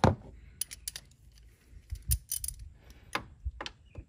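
Handheld ratchet loosening the 13 mm battery bracket bolt on a Chevy Trax, uneven bursts of sharp metallic clicks and clinks, close and fairly quiet.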